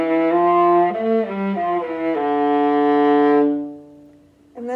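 A violin plays Sevcik Opus 8 shifting exercises, sustained bowed notes sliding between positions up and down the string, close and clear, then fading out before a new note starts.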